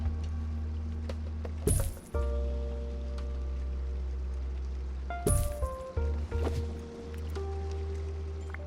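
Coins clink and jingle in two bright bursts as a donation box is emptied in the Two Point Museum game, each cascade followed by chiming tones over a steady low background hum.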